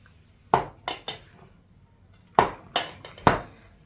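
Flour roasting in butter in a pan for Erzurum içli kete gets stirred with a spoon that clanks sharply on the metal, in two close groups of three knocks separated by a quiet pause.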